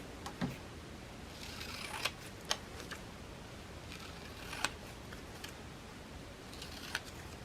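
Scissors snipping through paper for a glue-book page, a few sparse soft cuts and crisp ticks in a quiet room, no talking.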